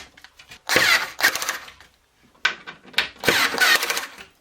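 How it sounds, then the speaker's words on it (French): A power screwdriver drives screws to hang a budget kitchen wall cabinet, heard as two close, loud whirring bursts separated by a short pause. "On la maintient et on visse."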